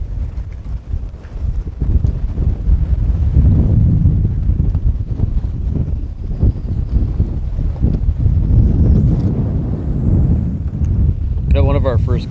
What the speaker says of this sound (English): I'll try to turn away from the wind when I start getting it real bad